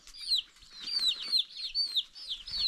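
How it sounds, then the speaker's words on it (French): Chickens call repeatedly in a farm field in a rapid run of high, sharp squawking and clucking bursts, close and fairly loud, with no talking. "Celui qui a le cocorico."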